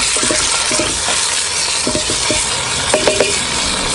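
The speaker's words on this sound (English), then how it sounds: "Brown our onions off." Onions browning in a camp oven over a homemade brick rocket stove, giving a steady close sizzle with a few faint clinks and scrapes, and no talking.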